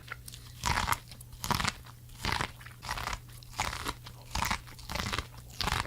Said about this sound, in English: eat a raw corn on the cob